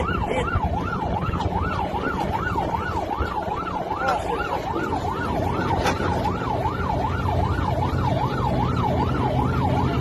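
A police boat's siren wails steadily in quick up-and-down sweeps for several seconds, loud and unbroken above a constant low rumble of motor noise.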